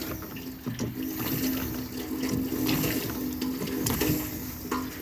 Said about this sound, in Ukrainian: вода хлюпає зверху.